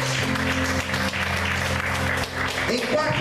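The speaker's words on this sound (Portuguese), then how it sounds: "Você pode aplaudir a Deus nessa noite?" A church congregation applauds during an evening service, a steady wash of clapping mixed with sustained musical tones and some voices, loud and continuous throughout.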